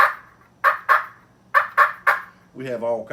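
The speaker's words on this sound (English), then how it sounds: "I got me this thing here where I can talk to my turkeys, and they talk to me" Turkeys on a ranch gobble in short, loud, rattling bursts close by, five quick calls in two clusters, followed by a longer squawking call at the end.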